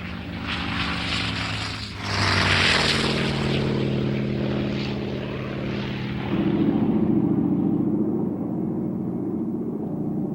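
Grumman F6F Hellcat Navy fighter with a propeller engine, a steady loud droning roar with strong harmonic hum that swells midway and then fades out alone.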